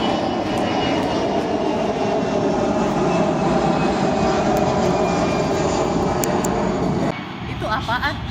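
An airplane passes overhead with a loud, steady engine drone that stays constant for several seconds before easing slightly near the end. Voices talk underneath it.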